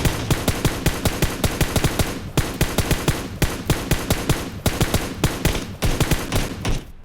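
A rapid full-auto burst from a rifle in PUBG Mobile, roughly ten shots a second, rattles on loud and close with only tiny pauses between strings of fire, with no voices over it.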